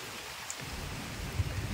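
Continuing rain falling in a rural province in Lopez, Philippines, near rice fields: a steady, soft broadband hiss with a faint low rumble, no voices.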